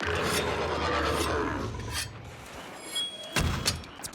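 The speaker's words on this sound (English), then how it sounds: "let's get a whetstone going" A weapon is sharpened on a whetstone in Monster Hunter Rise, a steady gritty rasp that fades out, followed by a few brighter metallic scrapes and clicks.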